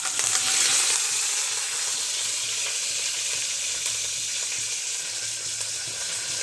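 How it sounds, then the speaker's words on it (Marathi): Fresh curry leaves dropped into hot oil for an everyday vegetable dish, crackling and sizzling in a bright continuous hiss that stays loud and close, easing slightly after the first second, with no voices. "चला आता कढीपत्ता टाकूया."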